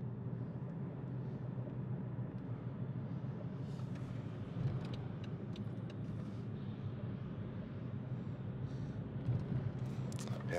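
A car being driven home from the gym, with a steady low rumble of engine and road noise from inside the cabin, continuous and moderate, with faint occasional higher sounds.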